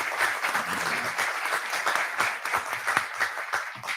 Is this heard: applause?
yes